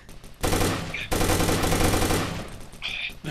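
Suppressed 9mm gunfire in the video game Takedown Red Sabre, a dense burst of rapid shots lasting about a second and a half, followed by quieter clatter, close and loud.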